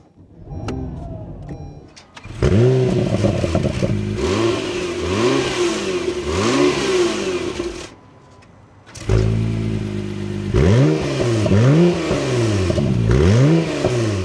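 An Acura NSX hybrid supercar engine fires up and revs hard in repeated rising and falling sweeps, pauses briefly, then roars through another series of loud revs close by, with no talking.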